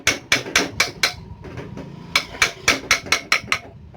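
An air cooler exhaust motor bearing is tapped into place with a hammer: a series of sharp, close metallic knocks in two quick runs, about a dozen strikes with a short pause between groups.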